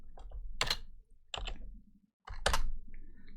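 Typing on a computer keyboard while entering PowerShell 7 code: three close bursts of rapid clicking keys separated by short silent pauses.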